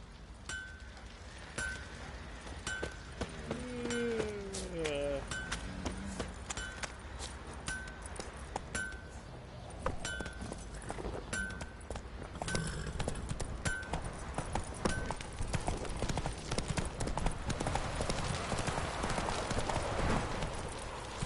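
Horse hooves clip-clop in The Witcher 3 game world, a brisk rhythmic stream of hoofbeats at a gallop with jingling tack, a brief whinny early on, and rising ambient wind noise toward the end.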